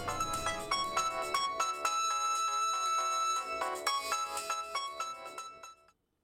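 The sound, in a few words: phone ringing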